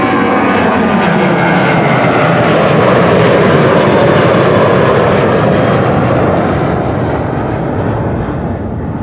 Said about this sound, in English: there's our first test case in the background, an A330. To see if the audio will clip whenever an A330 takes off or not